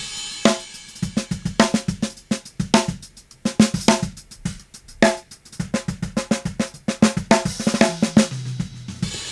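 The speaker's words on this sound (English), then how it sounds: "another cool trick that adds sustain and grit and crispiness is using drive" A punchy drum groove with kicks, snares and busy hits, slightly gritty and crisp in tone, playing steadily and alone.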